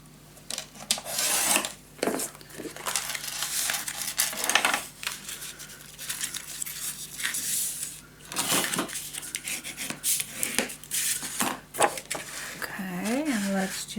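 Cardstock is scored for a treehouse keepsake box, producing repeated short rubbing and scraping strokes close by, interspersed with brief pauses and handling noises.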